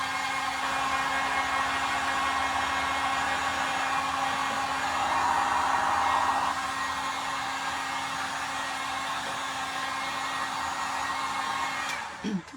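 A hair dryer blows steadily on wet paint on a patriotic truck door hanger, a loud constant whooshing hum with a faint whine that runs unbroken before cutting off with a few clunks at the end.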